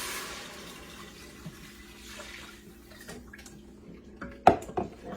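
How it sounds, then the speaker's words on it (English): Water pours into a pot of onions on a multicooker's sear setting, a soft, steady splashing that ends in a few sharp metallic clinks of the pot. "I'm going to add some water."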